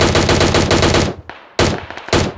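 Loud, close automatic gunfire from PUBG, with one long rapid burst, a brief pause, then two shorter bursts, and no talking.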